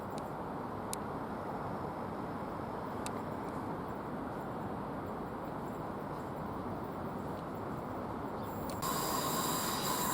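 Passenger train pulling out of Rochester railway station, a steady close rumble and hiss of rolling stock with a few faint squeals or clanks, holding at an even loudness for the whole stretch.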